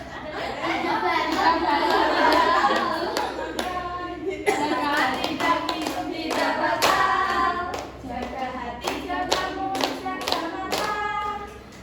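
Children in a micro-teaching class chant the tepuk puasa clapping game, with rhythmic sharp hand claps and taps punctuating their voices and a little chatter between the beats.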